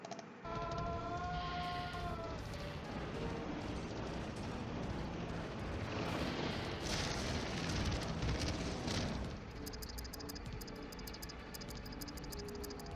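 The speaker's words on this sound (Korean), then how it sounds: "일본 후쿠시마 원전 폭발 영상이 있는데요" Explosion at the Fukushima nuclear power plant, a broad deep roaring rumble that swells and sustains for several seconds before easing into a lower rushing wash, heard in archival footage with no speech.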